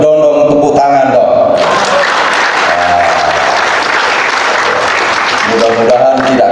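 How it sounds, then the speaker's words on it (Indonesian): Audience clapping at a high school event, a loud sustained round of applause that rises after a sung or spoken tone and fades as music returns near the end. "tepuk tangan dong."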